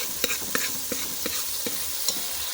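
Red chili powder being stirred into besan masala frying in a pan, with a steady sizzle under the scrape of a spoon that knocks lightly against the pan in a regular rhythm, close and clear.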